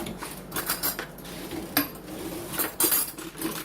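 Metal cutlery clinks and rattles as a spoon is picked out from among other utensils in a kitchen, a few sharp close taps and jingles with brief pauses between them.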